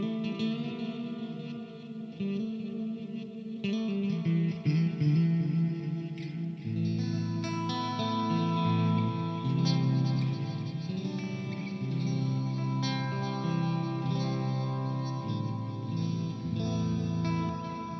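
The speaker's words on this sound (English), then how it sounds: "This is more of a heavy delay, heavy reverb kind of worship tone that you would play worship music with." An electric guitar through an ambient worship preset with heavy delay and reverb plays sustained chords and notes that wash together in long echoing trails, loud and continuous with no voice.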